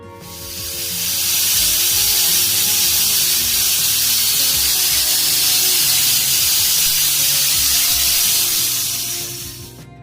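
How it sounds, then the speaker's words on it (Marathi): A pressure cooker whistle on high flame: a loud, continuous high-pitched hiss of steam rises and holds steady for several seconds, then fades out, with no talking. "कुकरच्या आपल्याला साधारण 7 ते 8 शिट्ट्या काढून घ्यायच्या आहेत हाय फ्लेमवरती"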